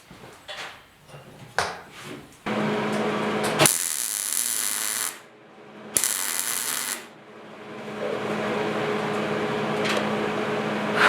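A welder tacks a bed panel on a 1969 Ford Bronco under restoration: a few light clicks and handling knocks, then two loud crackling buzzes of a second or so each, followed by a lower steady hum.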